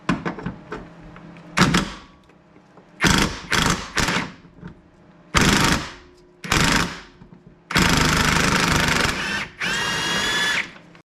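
Impact driver working a rear strut bolt on a Porsche 911 996, loud sharp bursts of rattling hammering in short repeated runs, with longer sustained bursts near the end, up close in a cramped space.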